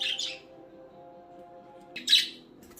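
Pet budgies in a cage chirp and squawk in two sharp bursts at the start and near the end, close and bright, over a steady low household hum, with no talking.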